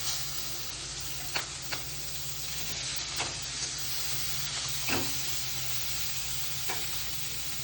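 Onion and green chillies sizzling in butter in a hot pan, a steady frying hiss with occasional stirring scrapes, close and moderately loud, no talking.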